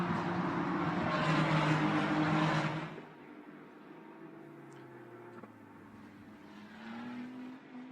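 A Ferrari Challenge race car roars loudly along the Laguna Seca front straight during qualifying, its engine note strong at first, then dropping away abruptly to a fainter, distant drone as it passes.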